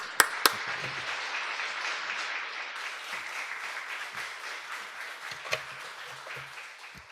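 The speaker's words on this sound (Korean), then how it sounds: "우리 선교사님 나오실 때 크게 한 박수로 환영해 주시면" Church congregation in a Korean church applauds to welcome a missionary: fairly faint, steady clapping from a room of people with a few sharp nearby claps, fading gradually.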